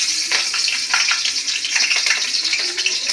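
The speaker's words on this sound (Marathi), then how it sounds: "तेल पण तापलेलं आहे आणि मिरच्या टाकून घेणार आहे आता त्याच्यामध्ये." Green chilies dropped into hot oil give a dense, crackling sizzle with bursts of spattering that stay fairly loud and steady throughout, no voices present.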